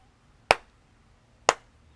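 Two sharp, crisp hand claps about a second apart at a Shinto shrine at Sengan-en, each clap standing alone against quiet background.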